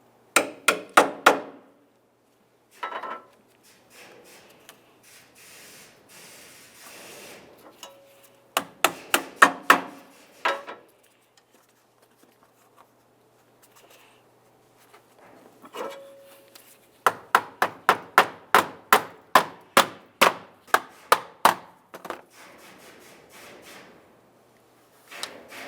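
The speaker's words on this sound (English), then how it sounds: "If you have a hard time pressing them in, you can use a small hammer." Bursts of sharp small-hammer taps on plastic push clips, several quick strikes in each group separated by pauses, close by and with no talking, on a 2005-2010 Dodge Dakota.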